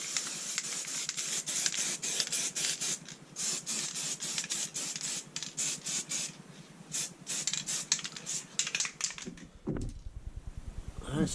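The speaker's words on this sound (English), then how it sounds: "Just one more spray left, I think, on each caliper." Short bursts of aerosol spray paint hiss repeatedly, close by, while painting the brake calipers of a Lotus Evora, with brief pauses between sprays and a clatter near the end.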